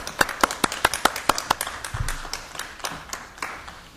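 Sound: audience applause for retiring staff

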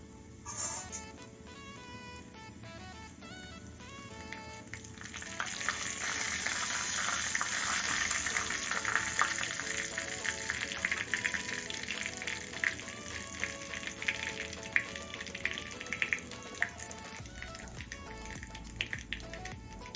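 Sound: ajwain and hing frying in oil

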